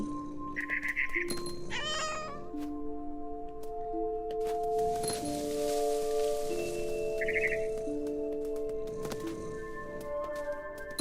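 In the video game What Remains of Edith Finch, a cat meows several times, with short high calls and one longer wavering cry, over steady game music and ambient tones.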